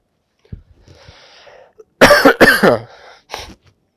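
A man with a lingering cold gives a burst of loud, close harsh coughs and throat clearing during a Hindi vocabulary lesson, preceded by a few quieter throaty sounds and ending with one short cough.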